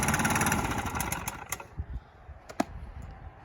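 Small chainsaw engine settling to a low idle, a loose rumbling putter with a few sharp clicks and knocks, heard fairly close and moderately quiet, without voices.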